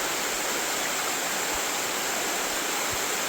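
A mountain creek flows steadily in Odaesan National Park in South Korea, a continuous loud rushing hiss of water with no pauses, close by and alone.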